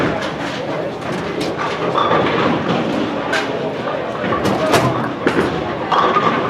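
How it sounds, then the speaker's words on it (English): A bowling ball rolls down a lane at Herrill Lanes and crashes into the pins for a strike during a league finals match, heard as a steady rumble with clattering impacts beneath crowd chatter and voices. "So David Cincotta strikes in the 7th frame for a double."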